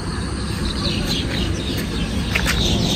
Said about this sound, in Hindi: कोयल लोग की और चिड़िया की आवाज़ बड़ी प्योरी आ रही है।